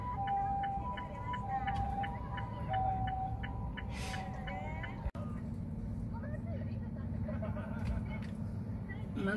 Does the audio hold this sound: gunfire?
no